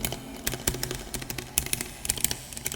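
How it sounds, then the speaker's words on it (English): Rapid plastic button clicks from an OP-XY synthesizer keyboard, tapping in an uneven rhythm, close and crisp. "it also picks up the clickety-clack of the buttons on the keyboard,"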